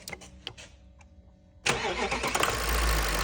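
A Volkswagen 4.2 TDI diesel engine, just back from an overhaul with a turbo shaft fault and a leaking dipstick seal, cranks briefly and then fires up into a loud, steady idle close to the listener.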